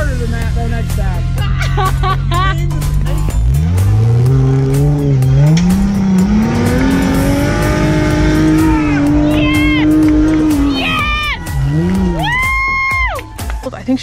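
A one-ton Jeep engine revs hard off-road and climbs in pitch, dropping and surging again as the vehicle works under load, with voices faintly underneath.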